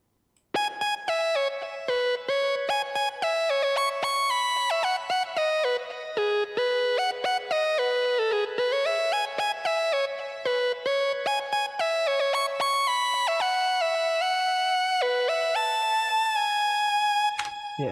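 Signature synthesizer presets played on the Cirque XT ring out as a bright, sustained stream of stepping tones with heavy effects, continuous and fairly loud with no talking.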